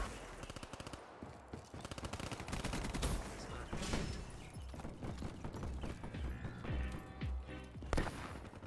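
Automatic gunfire in the Black Ops 3 video game comes in rapid bursts amid dense game effects, with a voice talking over parts of it.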